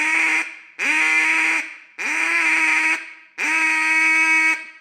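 Four long, flat, droning blasts on a single-reed duck call, each about a second with short gaps, steady and buzzy without rasp, close and loud with no voices.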